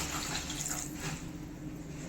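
Rinse water from a washed mixer grinder jar is poured into a simmering vegetarian egg curry, giving a steady splashing, trickling pour that runs close and fairly loud for about two seconds with no voices.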